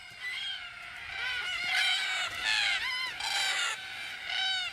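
A flock of cockatoos screeches at an evening watering hole in Australia, sending out repeated harsh, rasping calls that overlap in bursts at moderate distance, with no talking among them.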